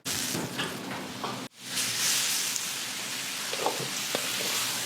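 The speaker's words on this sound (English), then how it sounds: "Mongolian stir fry" Mongolian stir fry sizzles loudly in a busy Indian Fijian restaurant kitchen, a dense continuous hiss of frying with a brief cut partway through, then steady sizzle with faint clinks of stirring underneath.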